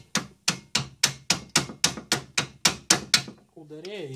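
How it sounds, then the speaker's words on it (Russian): Gentle hammer taps against a car's front wheel hub to work it loose, about eleven crisp, evenly spaced metallic knocks close by, followed by a brief whine at the end. "Тихонечко молоточком"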